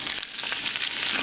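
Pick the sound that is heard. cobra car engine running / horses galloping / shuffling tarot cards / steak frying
steak frying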